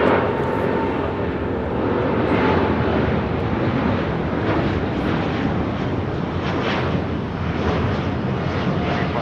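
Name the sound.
Boeing 787-8 Dreamliner taking off at LAX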